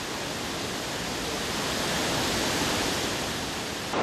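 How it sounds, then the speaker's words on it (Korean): Continuous roar of the Galovački waterfall at Plitvice Lakes, Croatia, a dense, even wash of falling water heard up close with no voices, holding steady throughout. "청량한 물소리를 내는 갈로바치키 폭포입니다"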